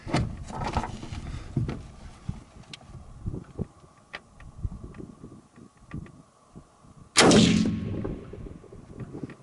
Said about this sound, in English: Okay, let's do one more shot. With this brake and everything, there's absolutely no recoil.